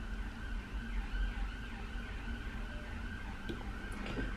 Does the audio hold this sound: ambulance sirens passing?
yes